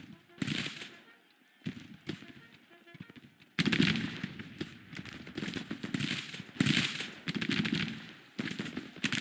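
Infantry volleys in the Civil War strategy game Grand Tactician, bursts of crackling musket fire in ragged clusters, loud and close, separated by brief quieter gaps.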